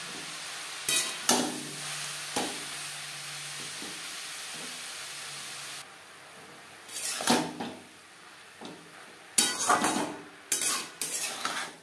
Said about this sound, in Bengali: বেশ ভালো করে মিক্স করে দেবো।